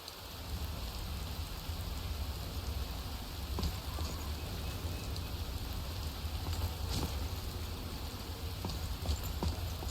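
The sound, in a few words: rain falling in a video game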